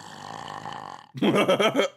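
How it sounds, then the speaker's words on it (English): A cartoonish burp sound effect follows a low, droning tone, then erupts loud and gurgling for nearly a second. "Is he gonna use that burping sound all the time?"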